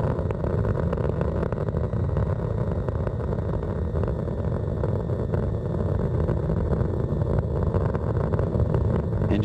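Space Shuttle Atlantis climbs during ascent, its engines throttling back up through maximum dynamic pressure in a loud, continuous, crackling roar that holds steady throughout.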